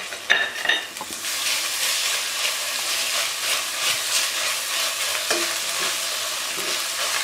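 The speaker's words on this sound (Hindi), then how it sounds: "इसको हम 1 मिनट के लिए इसी तरह फ्राई कर लेंगे।" Steady, bright sizzling of ginger garlic paste frying in hot oil, with occasional stirring scrapes; continuous and fairly loud, no talking.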